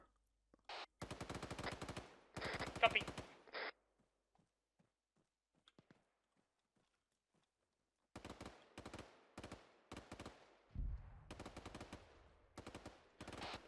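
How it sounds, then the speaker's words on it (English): Arma 3 video game combat: bursts of machine-gun and rifle fire crackle in sharp clusters, then fall silent before another string of shots and a low, booming impact, loud and nearby with no talking. "is that friendly or hostile artillery falling?"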